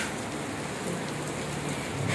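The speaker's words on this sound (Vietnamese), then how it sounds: "mưa mưa quá chừng luôn, nhưng mà cây cối bên mình vẫn đẹp nhé" Heavy rain falls steadily over an ornamental plant and bonsai garden in Sa Đéc, a dense, even hiss that fills the whole stretch with no voices.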